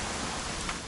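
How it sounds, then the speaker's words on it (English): Rain falls in the video game What Remains of Edith Finch, a dense, even hiss heard alone with no voices. "It's gonna rain the whole weekend, isn't it?"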